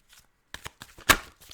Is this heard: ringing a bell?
no